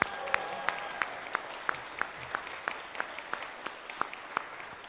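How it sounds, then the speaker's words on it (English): A small crowd claps for a Southeastern Idaho high school honor band at a concert, sparse, fairly quiet applause where a few sharp, evenly spaced claps stand out above the softer patter. "Let's give them a round of applause."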